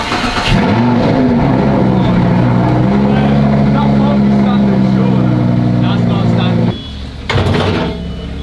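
A Lamborghini engine cranks and catches, then idles and revs steadily for several seconds before cutting off, with a brief burst at the end; loud and close, with people talking nearby.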